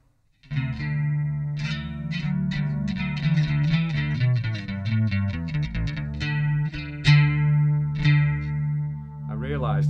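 A distorted Yamaha BB bass guitar plays a run of bright, sustained notes with a chorus-like shimmer, loud and close, ringing on after the last note.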